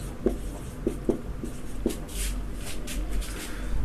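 A pen scratches across paper in short strokes and taps, writing out math terms at close range, with quiet rustling of the page in between.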